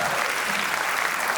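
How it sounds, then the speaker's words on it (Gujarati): A comedy show audience bursts into applause, a brief, dense wall of clapping from the crowd. "જોરદાર તાળીઓ થઈ જાય"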